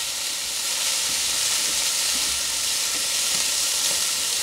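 Onions and peppers sautéing in a pan give a loud, even sizzle and hiss throughout, with faint occasional stirring taps and no talking.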